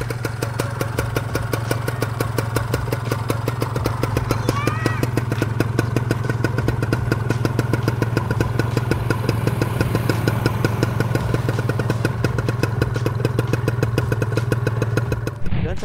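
A Kawasaki Ninja 250 motorcycle engine idles close up with a steady, even rumble, the pitch rising briefly in a short rev before settling back.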